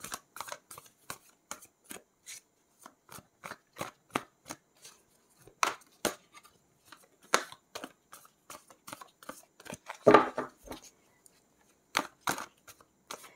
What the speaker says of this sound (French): Ces cartes sont très difficiles à battre et elle ne vient pas.